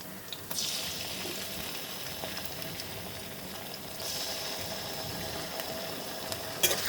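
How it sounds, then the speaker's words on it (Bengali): Ginger-garlic paste frying with onions in a pan, a steady sizzle throughout with soft stirring scrapes and a brighter flare of hiss midway and near the end. "এটাকেও একটু ভেজে নিব"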